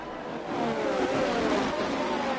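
Aston Martin race car in a wet-weather sim racing game, its engine revving at a steady high pitch with a slight rise and fall, close and continuous throughout.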